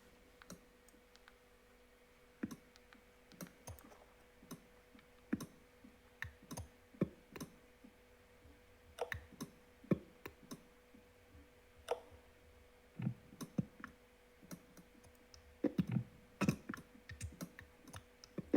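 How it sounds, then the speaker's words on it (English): Forced rhubarb growing in a dark shed on a rhubarb farm near Wakefield gives off scattered sharp clicks and pops, irregular and close, popping singly and in quick clusters over a low steady hum. "this is a real-time recording taken of forced rhubarb growing at David Westwood and Son Rhubarb Farm near Wakefield"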